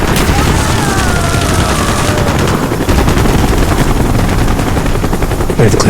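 Call of Duty Black Ops Vietnam tunnel battle: a loud dense barrage of rapid gunfire and booming blasts including a grenade explosion, continuous and saturated throughout, with shouted voices mixed in.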